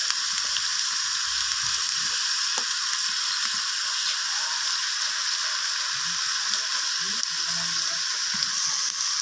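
Potato, papaya and eggplant pieces fry in oil with a dense, continuous sizzle, punctuated by occasional soft knocks of stirring; no voices.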